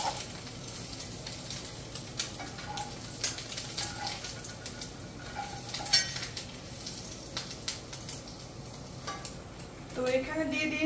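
Oil sizzles steadily in a kadai on the stove, a soft continuous frying hiss with occasional clinks of utensils, fairly quiet and close, with no talking.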